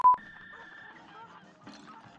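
Goose honking in the Cuphead video game, one sharp loud honk at the start, followed by quieter electronic game tones and beeps.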